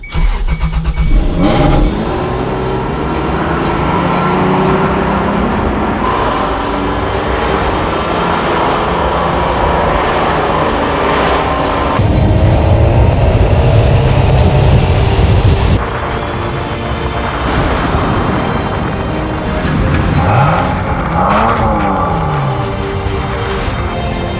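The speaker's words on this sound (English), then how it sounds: "Every time I turn the key and start up the Supra" A Toyota MK3 Supra starts up and drives, its engine note loud and steady throughout, with several rev swells and shifts in pitch as it pulls away and accelerates.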